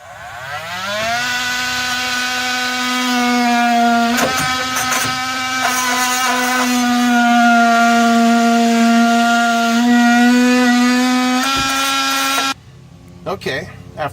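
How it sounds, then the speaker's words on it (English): A multi-tool cuts through the rubber shock grommet on a 2000 Ford F150, a loud steady buzzing whine close by that holds for about eleven seconds, briefly stutters, then cuts off, followed by quieter handling noise. "What you want to do is cut through the rubber grommet above it with the multi-tool."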